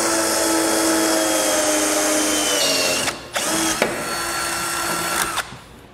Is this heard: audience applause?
no